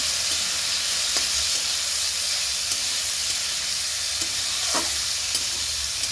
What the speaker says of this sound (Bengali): নেড়ে চেড়ে নিই ভালো করে